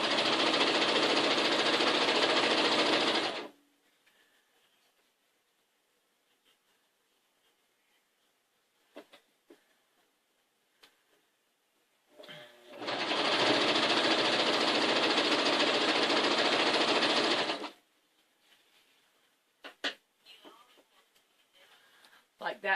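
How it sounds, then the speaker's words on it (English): A sewing machine stitches pieces of fabric together for a Dresden quilt block, two loud steady bursts of a few seconds each, with quiet pauses and light handling noises between. "we're going to line them up, and we're going to sew"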